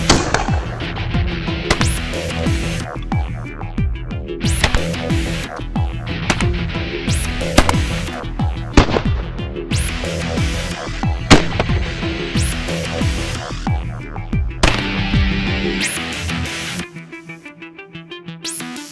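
A shotgun fires repeatedly at dynamic target practice, a string of loud, sharp blasts in quick irregular succession with brief pauses between, close by, the last seconds falling quiet.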